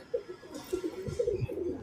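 Pigeons coo softly in a series of low, throaty calls, several overlapping notes repeating at an irregular rhythm, close by among breeding birds kept for sale.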